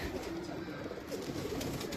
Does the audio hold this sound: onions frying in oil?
no